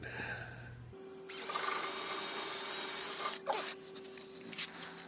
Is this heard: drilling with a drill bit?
yes